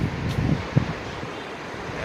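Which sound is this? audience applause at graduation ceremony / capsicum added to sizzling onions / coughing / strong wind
strong wind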